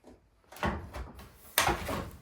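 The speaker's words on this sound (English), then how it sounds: "And now you can close your door." A door on an LG front-load washer with a dryer stacked on top is pushed shut, giving two or three soft thuds and a firmer closing knock near the end, close by with no talking.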